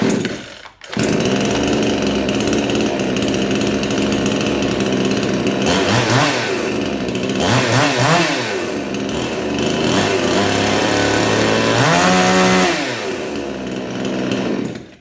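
A chainsaw engine runs loudly and close, idling roughly with a few revving surges that rise and fall, after a brief pull at the start.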